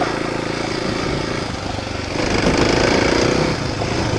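A motorcycle engine drones steadily while the bike rides over rough, fine-sand desert terrain, the motor close and fairly loud, swelling a little louder partway through, with no talk.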